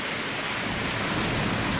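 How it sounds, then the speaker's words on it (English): Heavy rain pours down in a dense, steady hiss, loud and continuous with no pauses. "Heavy rain."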